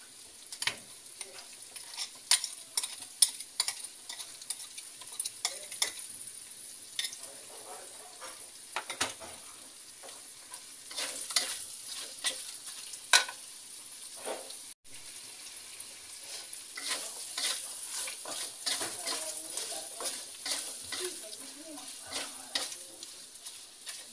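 A spice paste with lemongrass, bay leaves, turmeric leaves and powdered broth seasoning fries for carp pesmol. A soft, low crackle sits under intermittent sharp stirring clicks and scrapes in the pan.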